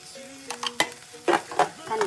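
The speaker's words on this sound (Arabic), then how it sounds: "كنعملوا الفلفل الالوان ديالنا، كنقلبوا حتى هي بنفس الطريقه" Colored bell peppers are stirred in a frying pan with quick scraping strokes over a soft sizzle, close and faint, in short bursts.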